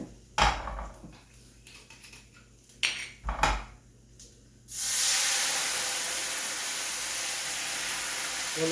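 A few sharp clinks of pans and utensils, then white wine hits a hot pan of snails with a sudden loud, steady hiss that holds close and strong to the end.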